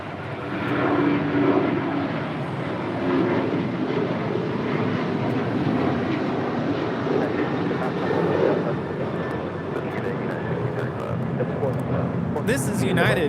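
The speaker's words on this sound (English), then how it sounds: "This is United 1635 departing to Washington Dulles on a 737-900 ER." A United Boeing 737-900ER jet departing Los Angeles for Washington Dulles makes a steady, loud broadband engine roar that holds for the whole stretch, with voices talking faintly underneath.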